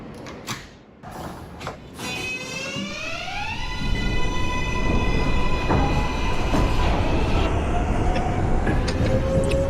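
A simulated NYC Subway R143 train on the J line to Jamaica Center, from the OpenBVE game, starting up: a brief pause, then a rising electric motor whine with climbing tones over a steady, loud rumble of running wheels.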